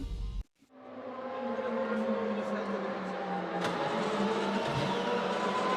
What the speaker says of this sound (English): So here's a lap from James Merrills in the MSL Motorsport Consultancy Porsche Cayman